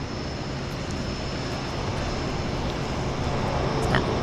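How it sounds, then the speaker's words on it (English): A Twin Otter floatplane departs from a float base, its engines giving a steady, loud, broad roar that holds throughout with no speech. "So, Twin Otter time, departure"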